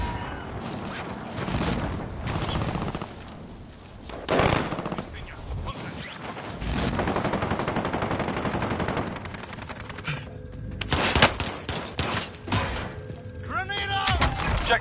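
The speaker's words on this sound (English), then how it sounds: "Taking fire!" Rapid automatic gunfire and scattered single shots crackle through a Call of Duty Warzone Resurgence trios match, with thumps and booms in bursts across the fight and game voice lines over the action.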